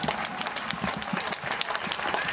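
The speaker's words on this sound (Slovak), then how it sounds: "Naozaj ľudia tlieskajú." Crowd applause rings out from balconies and windows along Palárikova street in Košice, steady dense clapping heard from a distance across the street, with a few sharper nearby claps.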